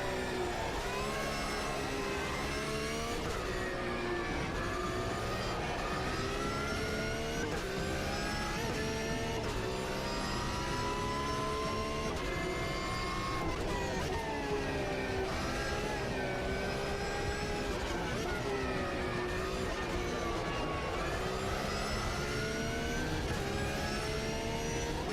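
A race car engine in the racing game Automobilista 2 drones continuously, its pitch rising and falling through gear changes. The loud, buzzy tone has the dated character of an old rFactor 1 mod.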